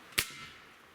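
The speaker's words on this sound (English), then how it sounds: "Shot number 3 with the Vapor Rub." Gamo Swarm Magnum air rifle fired once while dieseling with Vapor Rub, a single sharp, loud crack followed by a short fading tail in a quiet setting.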